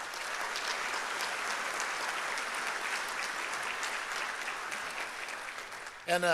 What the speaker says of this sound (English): Let's give John a round of applause for that.